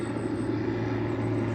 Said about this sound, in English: Oh, small aircraft. Right over the top.